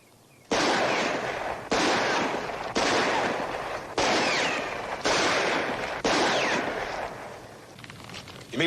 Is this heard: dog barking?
no